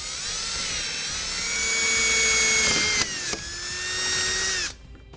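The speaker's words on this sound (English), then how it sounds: "and then we'll take our hole saw the rest of the way." A hole saw on a power drill cuts through a plastic back cover in a vehicle, a close, steady motor whine with slight pitch dips as it bites, a couple of brief clunks, then cutting off abruptly.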